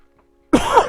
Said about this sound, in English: I got a cough here a second.